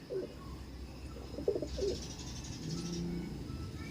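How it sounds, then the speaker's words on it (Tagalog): A young pigeon gives a few soft, low coos in short bursts, close by, over faint background hum and a brief higher chirping sound midway. "gandang young bird ni ano ni Johnson Press"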